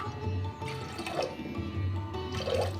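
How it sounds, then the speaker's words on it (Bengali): Water splashes and gurgles as it is poured into a pressure cooker holding red lentils, a close, continuous liquid rush with a few swelling surges and no talking. "দিয়ে দিচ্ছি জল।"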